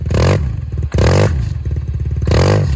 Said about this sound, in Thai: ออกตัวนี้ล้อปัดเลยนะ